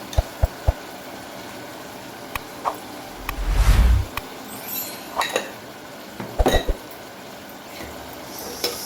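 Turmeric, coriander-cumin powder, red chili powder and salt are stirred into a home-cooked Gujarati onion-potato curry, with scattered metallic clinks of a spoon against the pot and a soft scraping swirl partway through.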